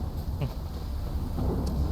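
Rain and thunder in The Witcher 3 video game, a brief low rumble rolling under steady rainfall hiss, fairly quiet with no voices.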